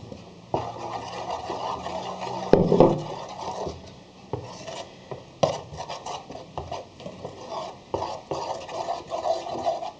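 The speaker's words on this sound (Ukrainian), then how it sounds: "Сюди ж я додаю 250 грам е, житньої муки." Rye flour is stirred into dough in a bowl, with a utensil scraping and knocking against the bowl in uneven bursts that are close and moderately loud.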